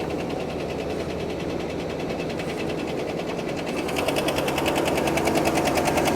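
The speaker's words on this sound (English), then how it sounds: "that is definitely a tick. That's a lot of ticking" An engine at a dealer auction runs close up under an open hood with a fast, steady mechanical ticking that grows louder and sharper partway through, a condition suspected of being rod knock.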